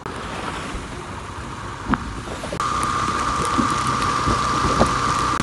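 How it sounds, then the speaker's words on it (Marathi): Heavy monsoon rain falls on the road up toward Lonavala from Mumbai, a steady loud broadband hiss that thickens midway, with a high tonal whine running beneath and a couple of brief knocks. "पाऊस एकदम खतरनाक आहे"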